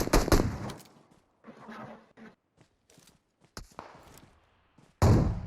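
Gunfire in the battle-royale game PUBG Mobile, with a loud burst of shots at the start and again at the end, scattered fainter shots and impacts in between.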